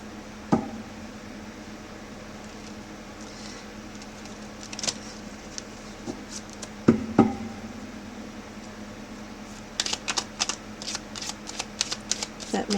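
Several short bursts of card shuffling, riffling and bridging near the mic with soft handling noise between, the busiest flurry at the end.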